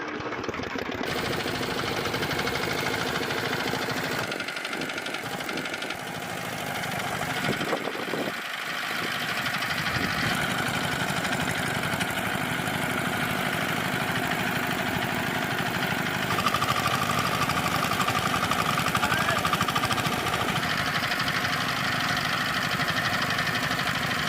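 A small engine on a Maa Mogal cultivator runs continuously with a steady droning hum and slight rhythmic knocking, holding an even level throughout with no talking.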